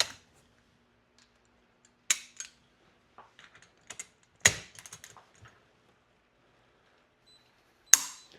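A torque wrench gives several sharp metallic clicks as it breaks at its set torque, heard alongside scattered handling clatter in an otherwise quiet room.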